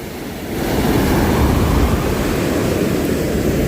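Rough sea surf pounds the shore in a loud, continuous roar. It swells up over the first half second and then holds steady with no voices.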